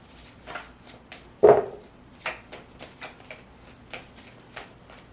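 Tarot cards are shuffled by hand in a series of soft, irregular riffles and taps, close up in a quiet room, with one louder burst of shuffling partway through.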